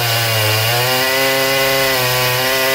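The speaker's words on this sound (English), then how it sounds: "Standing tall as the most powerful chainsaw in mass production today, it redefines what's possible in logging, felling, and slicing through nature's toughest timber." A Stihl MS 881, a large professional chainsaw, cuts through tough timber with a loud, continuous, high-revving drone whose pitch dips briefly under load and then recovers, with no talk.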